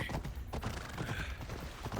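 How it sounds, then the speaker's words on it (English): Horse hooves clip-clopping in the video game Assassin's Creed Odyssey, a quick steady rhythm of muffled thuds with creaking tack, close and fairly quiet under low background sound. "I need to take this horse to either Adonis or to the stable boy."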